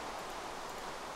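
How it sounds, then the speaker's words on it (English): Steady rain falls in Minecraft on an island, a soft, constant hiss with no breaks, faint and continuous throughout. "it's raining here. Oh, it always rains on my island."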